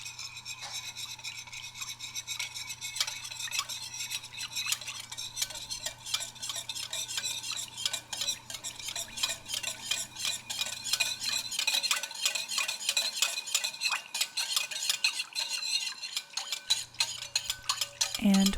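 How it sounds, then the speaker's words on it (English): Whisk scraping and clicking rapidly against a bowl while mixing a garlic sauce, a steady close-up rhythmic stirring with a faint low hum underneath. "And whisk it all together."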